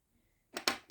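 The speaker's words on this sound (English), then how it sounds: "So I'm going to put some pencil on this J as if I'm following it down" A pencil drawing on paper makes a few quick, scratchy strokes in close succession, faint and near, following a moment of near silence.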